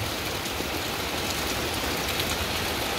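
Heavy rain pours steadily onto a waterlogged mango orchard behind a house on a wet morning, a dense, even hiss that holds close and loud without a break.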